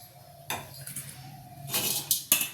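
Ragi rice is stirred in a pot, a spoon scraping and clinking against the metal in short bursts, close and fairly quiet, with a few sharper knocks near the end.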